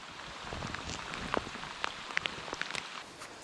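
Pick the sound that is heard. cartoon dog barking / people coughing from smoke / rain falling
rain falling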